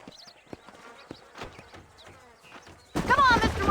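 Horse hooves clip-clop in Red Dead Redemption, a western-frontier game near the town of Armadillo, a scattered series of light knocks under game ambience, then a louder burst of rustling noise near the end.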